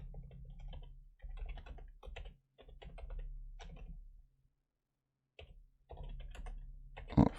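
Typing on a computer keyboard, rapid soft key clicks in several quick runs separated by short pauses, with one near-silent gap, close and fairly quiet with no talking.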